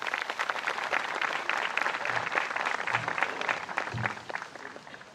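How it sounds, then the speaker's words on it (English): Steady applause from an audience at a MADD ceremony greeting a program manager, with dense continuous clapping and a few low thumps, at moderate level throughout. "Can I get a round of applause for her?"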